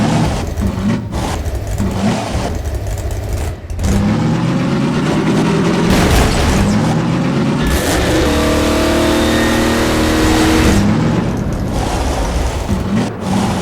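A car in Half-Life 2 drives across a balanced physics-puzzle bridge, its engine droning loud and steady with revving swells and a rising whine toward the end, with no talk over it.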